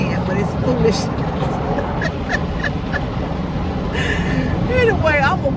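An automatic car wash runs around a car with a dense, continuous roar of spraying water and churning machinery, with a few squeaky, chirping tones near the end.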